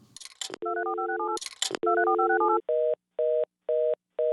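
Phone booth vehicle selection effect from The Simpsons Hit & Run: two bursts of rapid touch-tone dialing blips followed by five evenly spaced steady tone beeps, clean and alone.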